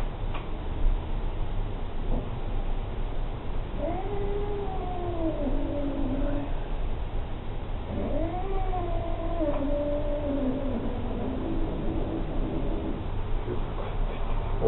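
Lissu the cat gives two drawn-out, wavering meows a few seconds apart, moderately close, over a steady background hum.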